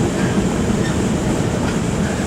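A Georgetown Loop narrow gauge train in Colorado's Clear Creek County, pulled by locomotive 1203 down a mountain grade, rumbles steadily on its rails from inside the car, a loud continuous roar with faint clicking.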